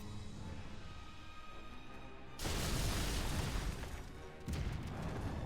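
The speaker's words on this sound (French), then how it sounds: "Bam, explosion." A sudden booming blast in the video game Gravity Rush Remastered erupts over a steady background drone and rumbles on, followed by a second burst a couple of seconds later.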